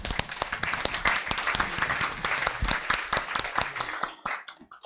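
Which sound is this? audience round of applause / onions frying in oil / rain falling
audience round of applause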